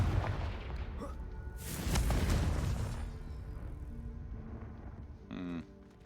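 A Confringo explosive spell cast in Hogwarts Legacy, heard as a loud rumbling blast that swells and rolls away over a couple of seconds amid dense game sound, with a short tonal flourish near the end.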